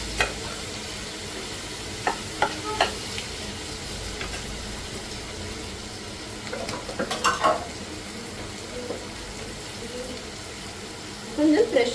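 Tomatoes sautéing and being mashed in a pan for a South Indian Sankara fish curry: a steady low sizzle with intermittent scraping and clinking stir strokes, some clustered near the end.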